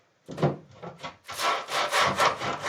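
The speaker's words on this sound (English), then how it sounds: "we're sanding that to get all these edges nice and flat" Wooden guitar body being sanded by hand to flatten its edges: a few short scratchy strokes, then a run of longer rhythmic rasping passes, close and clear with no talk.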